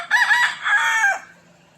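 A rooster in a backyard chicken coop gives one close, loud crow, a strained two-part cock-a-doodle-doo lasting about a second before fading into quiet.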